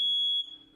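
A single short, high-pitched electronic beep from a home smoke alarm, loud and close, then fading quickly into quiet.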